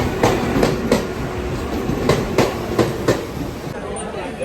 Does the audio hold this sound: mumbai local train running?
yes